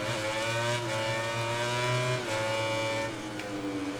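A Suzuki racing motorcycle in MotoGP 2020 roars under heavy throttle as its engine note climbs and drops through gear shifts, loud and continuous throughout.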